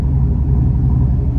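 A cammed Chevrolet Impala SS idles with a deep, loud, steady low rumble, the engine close and choppy, and no one speaking over it.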